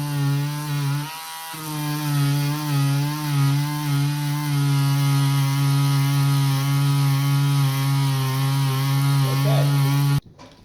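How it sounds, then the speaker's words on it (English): A battery Dremel rotary tool sands lacquer off a wooden gun stock, a steady high-pitched motor whine with gentle grinding, briefly dropping out once and cutting off abruptly at the end. "So I managed to get about 3/4 of the stock done before the battery on my Dremel died"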